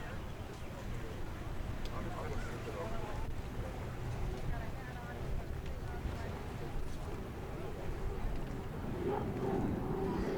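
A powerful unlimited hydroplane racing boat engine roars steadily across the water at Guntersville, loud and continuous with a broad rumbling drone throughout.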